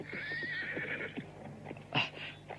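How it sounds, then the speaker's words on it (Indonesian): Horse neighing loudly in a long whinny while hooves clop along, approaching a roadside food stall in an Indonesian mystery drama, followed by a sharper snort or neigh near the end. "Suara derap kuda menuju ke warung ini."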